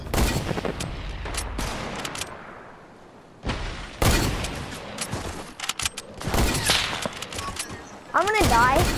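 Gunfire from a video game erupts in loud, close bursts of sharp shots and booms, separated by quieter gaps, with a player talking over the action.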